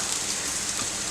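Onion and Maggi masala sautéing over a high gas flame, a steady dense sizzle and crackle with no talk.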